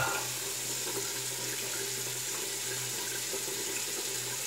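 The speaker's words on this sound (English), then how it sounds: "let's rinse off and see what our face feels like." A bathroom tap runs steadily while a face is rinsed after a shave, producing a constant, close rush of water with no speech.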